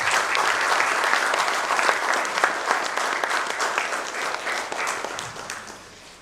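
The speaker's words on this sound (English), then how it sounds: "A huge round of applause, ladies and gentlemen" An audience at a book release event for a volume on India's corporate bond market breaks into a loud, dense round of applause that carries steadily for several seconds before tapering off.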